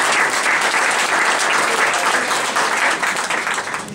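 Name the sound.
applause for Marie-Reine Paradis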